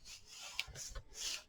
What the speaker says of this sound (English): And push it down and burnish it.